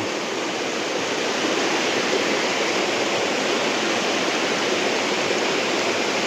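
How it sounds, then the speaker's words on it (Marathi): A stream rushes and burbles steadily down toward a river, a constant broadband flow with no voices. "हा असा पर्या वाहत येतो आणि खाली असा नदीला जातो"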